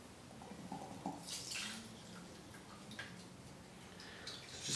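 Liquid cocktail mix is poured slowly through a cheesecloth-lined funnel, giving a soft, close trickling and splashing with a few brighter splashes and faint drips, no voices.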